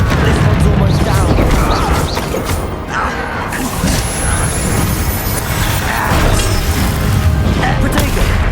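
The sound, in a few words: Bombarda blasting spell explosions in the video game Hogwarts Legacy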